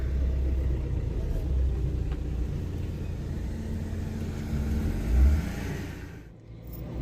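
A car rolls in through the entrance of Anıtkabir in Ankara, giving off a steady low engine rumble with road noise that swells briefly, then eases off near the end.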